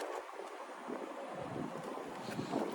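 Steady wind rushes past a 2015 Infiniti Q50 Sport with a 3.7 V6 on a test drive, a constant broadband roar that swells a little toward the end, with no talking over it.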